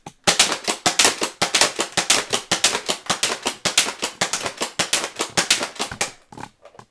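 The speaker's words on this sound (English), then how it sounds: "I'm gonna shoot off like 10 darts out of the turret." A toy dart blaster turret fires a long rapid string of sharp, loud clacking shots in a steady mechanical rhythm, roughly a dozen pops close by, tapering into a few quieter clicks at the end.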